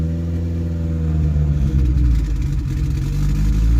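A boosted Honda Civic EG engine rumbles at close range, a low, uneven idle with a deep throb that swells toward the end.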